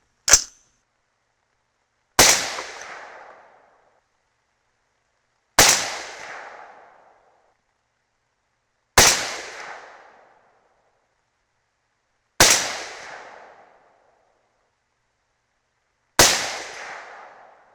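Six sharp .308 Winchester rifle shots firing 175-grain Sierra MatchKing handloads with IMR 4064 powder, each crack spaced a few seconds apart with a short decaying echo. The shots are loud against near silence, and nobody talks.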